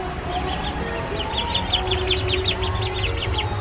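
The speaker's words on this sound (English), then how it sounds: "There's baby ducks." Baby ducks give a steady run of high, thin peeping chirps, many quick calls overlapping at close range above a constant low rumble of background noise.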